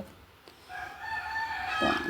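A Kappiri spotted native rooster crows once, close and clear: a rising, drawn-out call that starts after a brief quiet moment and holds strong to the end, with no talking.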